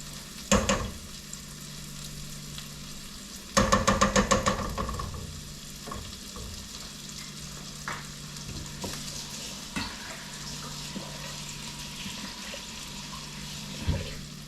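Butter sizzles in a hot pan while cooking beef caldereta with fresh tomato. Bursts of crackling and stirring come at the start and again around the middle, over a steady low frying hiss, with occasional clinks.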